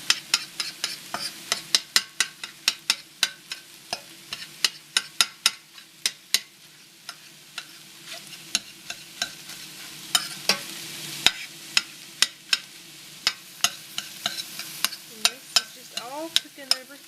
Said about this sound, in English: my eggs need to be chopped up. They're just kind of scrambled over here.